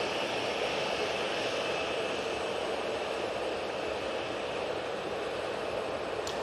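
A Boeing Dreamliner at Manchester Airport produces a steady, broad jet engine roar that stays loud and constant, with no talking.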